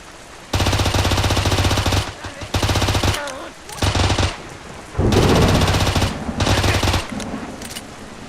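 Rapid automatic gunfire in a video game demo rattles in several loud, sustained bursts with short gaps between them, dense and close.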